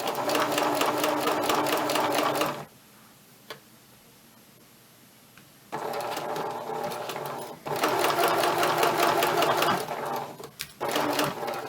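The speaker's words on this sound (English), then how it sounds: "Okay, so here is that stay stitching." Sewing machine stay stitching around a fabric collar, running in loud sustained bursts with a few quiet pauses between stitching runs.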